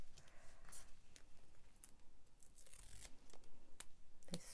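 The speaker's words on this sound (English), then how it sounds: "And then you cut the excess off." Scissors trim excess paper off a craft piece in a series of quick, quiet snips and crisp paper rustles, with a few words spoken softly at the start.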